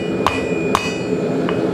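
Hammer striking the struck end of a steel center punch, three light metallic taps evenly spaced, the last one softer, over a steady background hum.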